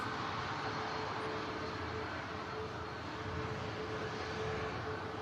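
A British Airways shuttle airliner being pushed back at Manchester Airport Terminal 2, its engines giving a steady, broad, fairly distant roar with a faint constant whine, unchanging throughout and with no talk.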